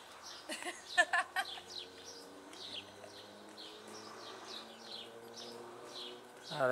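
Small pigeons in the gardens of Marqueyssac, France, give soft, faint coos amid a busy background of chirping and tweeting songbirds outdoors.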